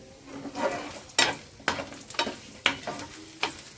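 Onions and dried red chilies frying in a pan for Rayalaseema-style dish, with a steady sizzle broken by several sharp stirring scrapes at regular intervals, close and alone without talk.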